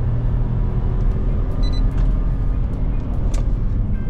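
Geely Atlas Pro or Jaecoo J7 crossover accelerating hard from a standstill, engine droning loud and steady from close inside the cabin with a low road rumble throughout and no one speaking.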